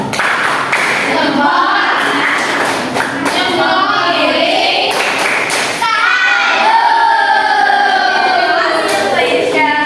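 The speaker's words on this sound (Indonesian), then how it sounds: "untuk perwakilan kelompok 1 kita kasih tepuk salut ya. Tepuk salut." A class of fourth-grade schoolchildren performs the tepuk salut clapping chant in a classroom lesson: group voices chanting together over rhythmic claps and thumps, loud and steady for the whole stretch.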